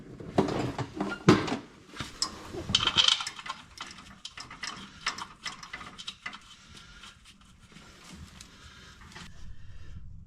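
A ratchet wrench clicks in short bursts while bolts are run in during a 700R4 transmission install on a 1967-72 Chevy C10 pickup, with metallic clinks and tool handling, busy at first then quieter.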